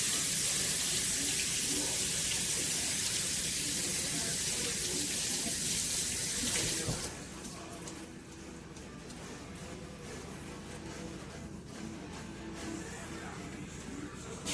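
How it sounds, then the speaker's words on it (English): A kitchen tap runs strongly over a head of cabbage being rinsed, a steady hiss of splashing water that stops partway through, leaving faint handling noises. "let me wash the cabbage off."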